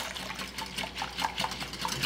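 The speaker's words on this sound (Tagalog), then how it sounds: "ilagay na natin dito yung tubig" Water pours into a bowl as batter for fresh lumpia wrappers is made, a soft, continuous trickle and splash with small bright plinks and bubbles, close by and fairly quiet.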